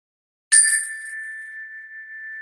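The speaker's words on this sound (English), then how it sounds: "listen to the sound of the bell and close your eyes if that's comfortable for you" A single bright bell strike that rings out with a long, steady sustain, used to start a breathing exercise, alone in otherwise silent surroundings.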